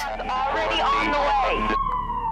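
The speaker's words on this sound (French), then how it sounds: "Quand l'ambulance arrive" An ambulance siren wails loud and close, its tone sweeping up and down before settling into a steady held pitch as it arrives, over a low engine rumble.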